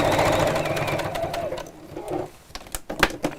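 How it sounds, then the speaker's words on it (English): A sewing machine stitches its way around a chunky, lumpy piece of fabric, its fast needle clatter running steadily, then easing off into a few separate louder clicks and thumps near the end. "And sew all the way around, getting a bit lumpy there."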